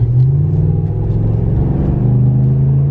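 Steady low engine rumble from a Ram Rebel pickup truck held on the brakes for a torque burnout, revving evenly and loudly up close without wheelspin for about three seconds, no voices.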